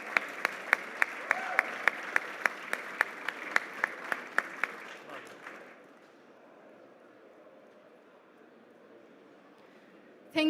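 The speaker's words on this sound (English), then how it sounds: "A big round of applause, please, to celebrate this milestone." An audience at a Future Minerals Forum tech session applauds a milestone with crisp, evenly spaced claps for about five seconds. The clapping then fades into quiet room tone, and a brief louder burst comes at the very end.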